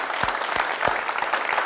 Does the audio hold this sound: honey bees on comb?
no